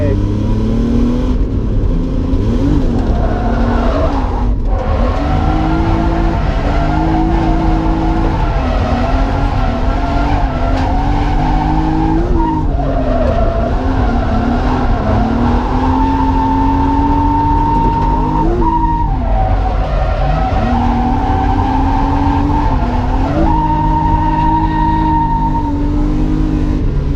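A Nissan 350 drifting at Driftland UK, its engine roaring loud and continuous with revs rising and falling between shifts and tires skidding throughout, with a voice talking now and then over the noise.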